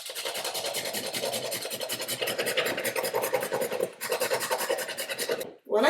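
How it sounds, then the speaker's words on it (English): Nutmeg grated against a kitchen grater, a steady close rasping scrape that continues nearly without pause, with a brief break near the end. "I'm going to grate a little bit of nutmeg."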